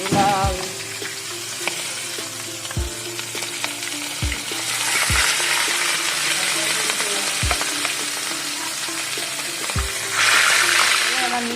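Salted, turmeric-rubbed stingray pieces fry loudly in hot oil, a dense crackling sizzle heard up close, with several sharp knocks of a utensil against the pan and bursts of stronger spitting near the end.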